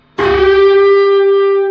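An electric guitar plays a unison bend: one picked note rings out loud and close, sustaining as a bright, steady pitch with a faint overdriven edge until it is cut off.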